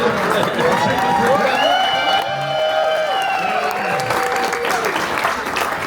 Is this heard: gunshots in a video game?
no